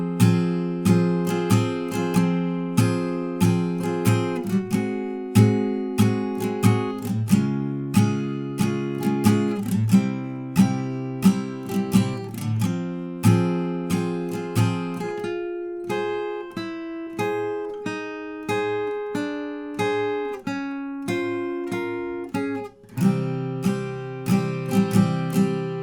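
Acoustic guitar strums the verse chords of a song in a steady rhythmic pattern with ringing chord changes, close and fairly loud, played alone for nearly half a minute.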